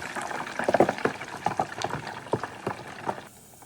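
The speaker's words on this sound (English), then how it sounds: "It just takes maybe just a few minutes to fry it up." Polenta frying in oil in a pan, bubbling and popping in irregular clusters of soft bursts close by, fading out at the end.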